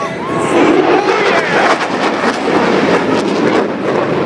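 An F-18 jet fighter roaring past at the Jones Beach air show, a loud, steady broadband rumble with a crowd murmuring faintly underneath.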